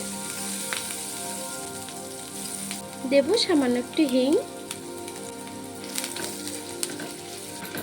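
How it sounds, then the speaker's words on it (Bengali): Chopped ginger and green chili frying in hot oil in a pan, a steady soft sizzle and crackle running throughout, with a voice speaking briefly over it midway. "লঙ্কা আর আদাটাকে একটু ভেজে নেব।"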